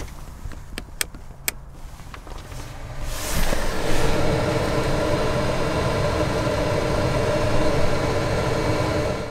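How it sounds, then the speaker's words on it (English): A Propex HS2000 gas heater starts up with a few sharp ticks, then its fan swells into a steady, loud, broad whooshing roar that holds unchanged to the end. "the heater pushes out cold for a couple of minutes, and then it turns its little burner on"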